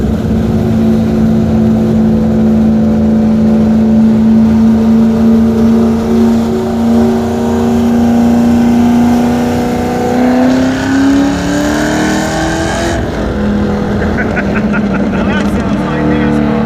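Race car engine circling an oval NASCAR-style track, a loud sustained drone that holds steady pitch, then rises and shifts as the car accelerates, with people talking over it.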